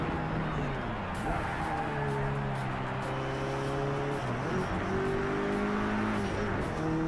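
Engine roar from a car in the Project Cars 3 racing game, continuous tones rising and falling as it accelerates and shifts, with music beneath.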